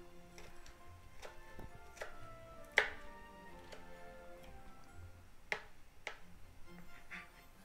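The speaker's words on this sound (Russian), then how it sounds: "отделяем каждый грибочек и нарезаем его сначала на полосочки" A knife chopping oyster mushrooms into strips on a board, a slow irregular series of soft, quiet taps with a couple of sharper cuts and no talk.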